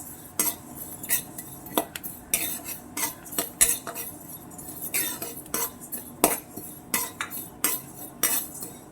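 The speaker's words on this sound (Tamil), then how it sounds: "இப்போ இது ஒரு பாத்திரத்தில் நான் மாற்றிக்கிறேன்." Roasted puffed rice is moved into a vessel with a metal utensil, producing scattered close scrapes, clinks and taps against the metal at an irregular pace.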